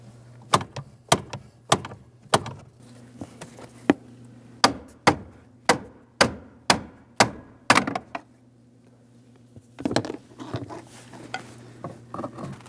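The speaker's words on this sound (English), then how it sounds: "you can tap on it with a hammer" Hammer taps on the upper steering shaft of a 2007-2014 GMC Sierra 2500 HD, a run of sharp metallic strikes in a steady rhythm, then a pause and a few scattered softer knocks, close and loud over a low hum.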